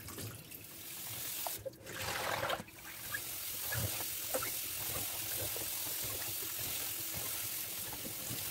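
Running water rinsing baking soda off watermelon rinds, splashing and trickling, with brief louder gushes early on, then a steady flow with small clinks, close by and without talk.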